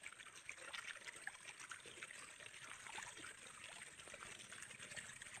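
Water pumped by a machine pours from a pipe into a dry field, a steady, moderately loud trickling rush that continues without a break.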